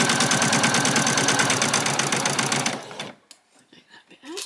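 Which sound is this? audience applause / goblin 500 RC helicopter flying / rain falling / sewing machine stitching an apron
sewing machine stitching an apron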